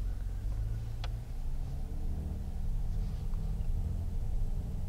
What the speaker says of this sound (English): Let's put this in sport plus mode. We just heard the engine change.